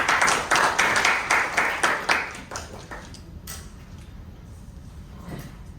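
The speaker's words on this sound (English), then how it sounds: "Round of applause, please." A small audience at a Toastmasters-style debate club meeting gives a short round of applause, close and lively for about three seconds, then tapers off into scattered claps and quiet room noise.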